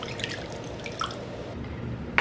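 A cup of water poured into a bowl for Funfetti cake mix, giving a short run of dripping and splashing at close range that cuts off near the end with a small clink.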